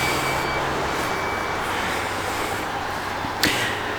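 A 2021 Jeep Grand Cherokee L Laredo's power liftgate runs with a steady mechanical hum and a brief warning tone at the start, ending in a short clunk near the finish.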